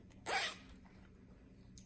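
Single quick zip of a washable, lined fabric zipper pouch, a close bright rasp lasting a fraction of a second, with a faint tick after in quiet surroundings.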